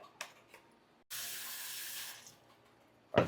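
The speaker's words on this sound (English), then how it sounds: "Gonna give that a quick rinse with a little bit of vinegar." Tap water runs into a kitchen sink over raw beef being rinsed with a little vinegar, a steady close hiss of flowing water lasting about two seconds, with a few small splashes and clatters before and after.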